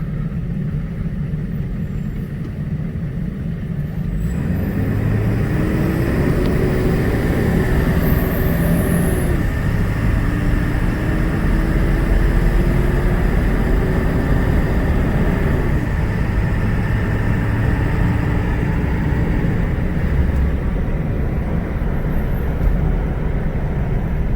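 A 2000 Ford F250 with the 7.3 Power Stroke diesel and over 600,000 miles drives along, its engine droning steadily from inside the cab with rising and falling shifts in pitch and constant road noise throughout.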